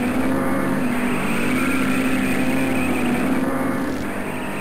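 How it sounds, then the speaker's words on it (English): A biker's engine revving hard at the Sturgis motorcycle rally, a loud, sustained throaty drone with a steady low hum, close to the microphone, easing slightly near the end. "Anyone who really wants to stand out here needs to rev his engine as loud as possible."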